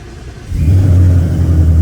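A 1000 hp Ford Mustang engine catches on a cold start, a low rumble swelling abruptly after half a second into a loud, steady idle that holds to the end.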